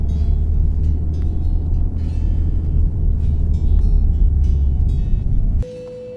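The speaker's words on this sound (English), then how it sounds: "So we're driving to the Minack Theatre right now, and it's just a really pretty backroads drive through Cornwall." Car interior rumble on winding Cornwall backroads toward the Minack Theatre, a steady loud low engine and road drone throughout that cuts off abruptly near the end, leaving a quieter hum.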